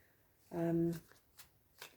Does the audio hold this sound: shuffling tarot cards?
yes